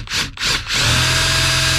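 A power drill running in reverse countersinks a screw hole in a ceiling panel, giving two short whirring bursts and then a steady, loud, close-up whine that holds to the end.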